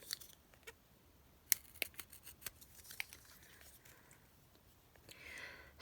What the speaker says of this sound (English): Now I am going to take my snips and open them up and break this seal